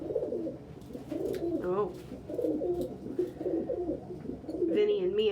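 Pet pigeons coo indoors in soft, repeated throaty rolls close to the microphone, with a person's brief voice heard among them.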